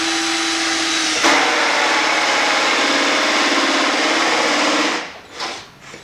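A power drill bores a hole into PVC hydroponic pipe: a steady motor whine, then a harsher, louder grinding as the bit bites into the plastic, running evenly for several seconds before winding down.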